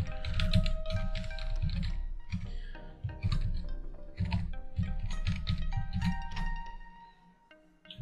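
Typing on a computer keyboard while working in the HTML5 client of VMware vCenter, with steady keystroke clicks running through most of the clip over a low hum, tapering off near the end.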